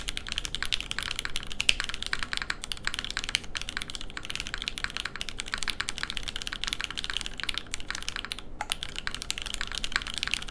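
Continuous fast typing on a Keycult custom mechanical keyboard with premium switches, a dense stream of crisp, close clacks at steady volume throughout, with no voices.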